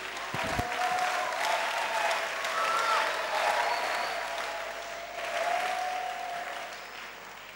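An audience claps steadily throughout, a dense sustained wash of applause from a crowd at a gathering of a church or spiritual group, rising and falling slightly in intensity with no break.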